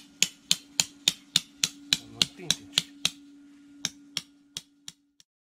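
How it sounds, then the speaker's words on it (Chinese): A small hammer drives metal tent pegs into ground beside a camper-van tent, sharp ringing strikes in a quick steady rhythm of about a dozen, then a few slower blows after a pause, close and clear. "这锤子有点小。"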